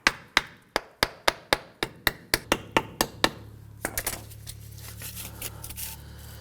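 Sharp hammer taps on a front engine mount bushing of a 2008-2011 Ford Focus, about a dozen evenly spaced metallic strikes up close, then a low rumble and scraping as the tapping stops.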